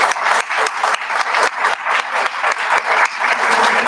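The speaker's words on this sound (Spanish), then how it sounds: "un aplauso para ustedes también" Audience clapping steadily throughout, dense and loud rhythmic applause filling the room without pause.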